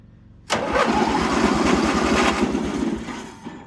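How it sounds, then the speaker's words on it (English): An 18HP MTD Yard Man hydrostatic riding mower, a barn find running off a booster pack, cranks on its starter with a sudden loud onset and a steady rhythmic chugging whir lasting about three seconds before fading, close up. "let's see if the starter turns over"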